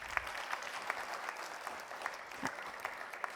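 Applause from an audience at an awards ceremony, an even wash of many hands clapping, faint and distant with a few sharper individual claps poking through.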